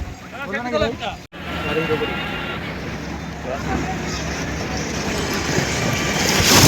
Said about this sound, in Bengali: আবার উঠলাম স্পিড বোটে সেকেন্ড টাইম